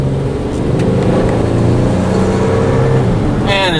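A 2007 Ford Fusion with a V6 engine accelerating, a steady low engine drone rising in strength for several seconds, close and continuous with no talk over it.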